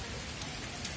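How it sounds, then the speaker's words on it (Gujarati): Heavy monsoon downpour, a dense continuous hiss of rain falling on surfaces, steady and moderately quiet with no voices. "ધોધમાર વરસાદ છે ચાલુ"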